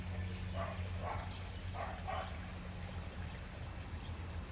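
Water from a creek carrying white runoff flows steadily down over sediment, a constant rushing wash with low rumble throughout and a few faint splashy bursts, no talking.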